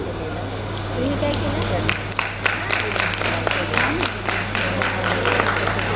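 An audience claps in scattered, uneven applause at a Shravan festival stage show, under a steady hum, with a person talking over it.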